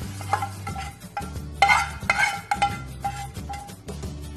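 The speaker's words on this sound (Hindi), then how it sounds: "अब इसमें तड़का डाल देंगे।" Hot tadka tempering goes into pressure-cooked dal for Rajasthani dal bati, with a soft sizzle and irregular spoon stirring and metal clinks against the pot, close by and without talk.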